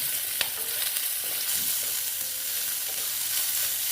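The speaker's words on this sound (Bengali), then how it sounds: "দেখো কুচনো পেঁয়াজ দিয়ে দিলাম, দিয়ে একটু নেড়ে চেড়ে নিচ্ছি।" Chopped onion frying in a pan and being stirred, a steady close sizzle with a few scraping stirs, no voices.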